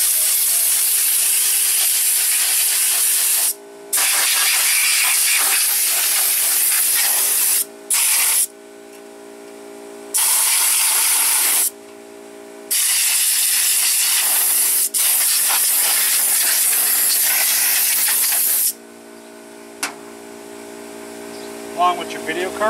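Compressed air blowing dust out of a desktop PC gives loud, close bursts of sharp hissing spray. Long blasts are broken by short pauses, with faint mechanical rattles between them.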